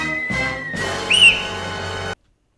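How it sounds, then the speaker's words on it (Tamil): A whistle is blown inside a house: one loud, shrill blast close to the microphone with a brief rising trill near its peak, then an abrupt cut to silence. "நடு வீட்டுல வந்து இப்படி விசில் ஊத்திக்கிட்டு இருக்க"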